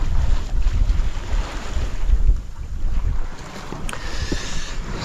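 A sailboat heads offshore in about 20 knots of wind, with loud gusty wind buffeting the microphone, rushing water and waves along the hull, and a steady roar that dips briefly midway.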